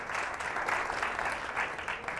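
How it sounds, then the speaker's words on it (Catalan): Studio audience at a school quiz show applauding a team's score, a steady even patter of many hands clapping throughout. "Un aplaudiment a 190 punts"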